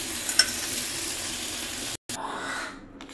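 Choy sam and garlic stir-fried in a hot pan: a steady, close sizzle with stirring scrapes throughout, a brief cut near the middle, then frying fading lower toward the end.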